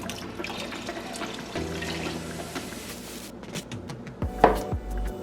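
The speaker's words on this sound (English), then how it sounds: "So what I'm going to do now is add the rest of the water." Water pours into a pot of beans pre-cooked in beef broth, giving a short gushing, splashing fill with some clinks of the pot, close and fairly loud, with no talking.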